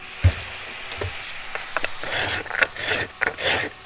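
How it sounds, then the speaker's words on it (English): A hand scraper cuts a groove into the corner of a wooden body in short rasping strokes, close and fairly loud, growing denser and brighter toward the end. "You can go around the body and scrape a groove into the corner."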